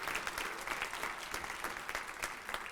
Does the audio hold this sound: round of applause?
yes